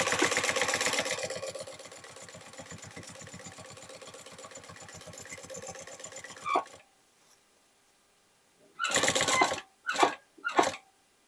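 A sewing machine stitching fabric cut from old jeans runs in a fast, even whir for several seconds, stops, then gives a few short bursts of stitching.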